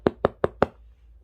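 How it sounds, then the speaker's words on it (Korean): Four sharp, evenly spaced knocks on a door, close and distinct, followed by quiet. "문을 두드리는 소리가 들렸어요."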